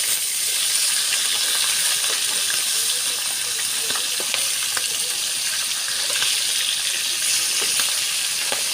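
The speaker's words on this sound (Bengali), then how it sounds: "আমাদের এখানে প্রচুর বৃষ্টি, বৃষ্টির জন্যে কথাই বলা যাচ্ছে না" Heavy rain pours down steadily close by, a dense, constant hiss with scattered drips and splashes throughout, loud enough to drown out talk, while fish fries in a kitchen.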